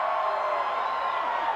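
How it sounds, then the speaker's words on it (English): A capacity crowd at a WWF wrestling arena roars and jeers at a wrestler, a continuous wash of cheering and shouting voices with no break. "being taunted by this capacity crowd."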